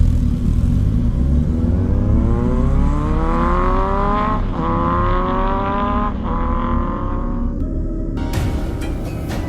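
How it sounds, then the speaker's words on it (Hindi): A motorbike revs and sets off as a sound effect in an animated horror story, a loud engine whine climbing in pitch through several gear shifts, ending in a sharp clatter. "ये कहकर बाबा अपनी बाइक से जोसेफ को ढूंढने के लिए निकल पड़ते हैं।"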